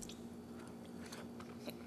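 Someone bites into cheesecake dipped in chocolate fondue, producing soft, close chewing and mouth sounds that are quiet and steady, with no talking.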